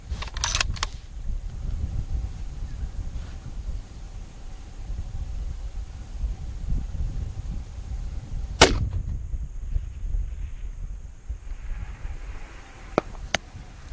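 A Tikka TAC A1 rifle chambered in 6mmBR fires a single sharp shot at an outdoor range, followed later by two fainter cracks, over low wind and ambient noise.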